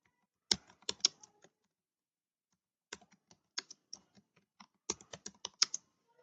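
Bursts of typing on a computer keyboard as a patient's name is entered into clinic accounting software, quick clusters of key taps separated by a pause, close and fairly crisp.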